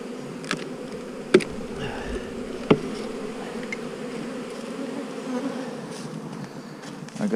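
A dense, steady hum of many honeybees buzzing close by, punctuated by a couple of sharp knocks and clicks.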